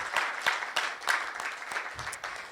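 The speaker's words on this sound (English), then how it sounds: "So let's give them a round of applause." An audience at an education conference applauds the event team: a steady, moderately loud patter of many hands clapping, with a few sharper claps close by.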